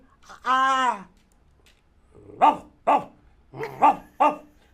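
A voice imitates a dog: a drawn-out whine followed by several short, sharp barks in quick bursts, close and clear.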